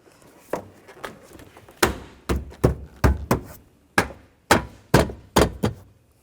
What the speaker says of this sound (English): Now take the interior trim panel, get it lined up. And just push it in place.